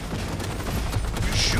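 Rapid gunfire in the video game Cyberpunk 2077, a dense burst of shots with booming low thuds that fills the short stretch, loud and continuous.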